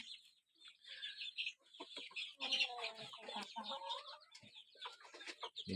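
Several chickens in a coop cluck and squawk close by in a busy, irregular chatter, with scattered scratching and shuffling sounds.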